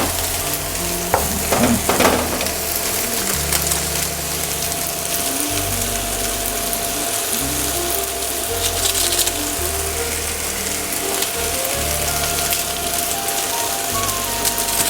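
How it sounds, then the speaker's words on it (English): Korean ramen sauce and seasonings sizzle and crackle in a hot frying pan while being stirred, a loud, steady frying hiss with scraping strokes, backed by a low musical bed throughout. "Now add in the ramen package sauces and seasonings."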